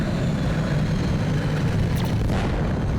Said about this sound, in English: The UFO and the plane are fighting.